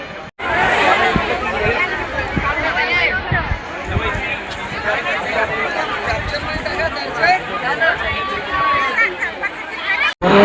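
A large crowd mills outside and into the temple at Shegaon during the palanquin arrival, a dense continuous babble of many voices with shuffling footsteps, loud and close throughout.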